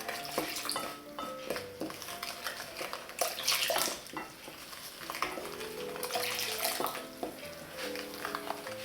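Warm water poured onto sifted flour and dissolved yeast for a fluffy cheese pie dough: a steady splashing trickle over soft background music.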